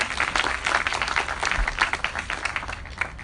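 An audience applauds a sheriff during a speech, with dense, steady clapping filling the room for several seconds at moderate volume and no voice over it.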